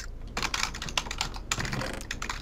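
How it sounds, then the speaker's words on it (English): Rapid clicking keystrokes on a computer keyboard, close and fairly quiet, in quick irregular bursts with a brief gap near the middle, no voices. "What are you typing?"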